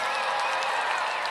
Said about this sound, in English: Big round of applause for that incredible job.